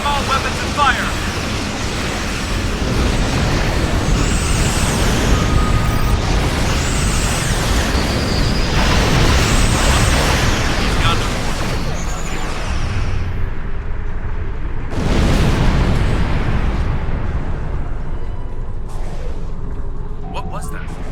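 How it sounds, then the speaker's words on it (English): Starship weapons fire and explosions in Star Trek Online: a dense, continuous roar of rumbling blasts and booms, loud and near, with a sharp burst midway and high zapping sweeps threading through the first half. "Computer, arm all weapons and fire!"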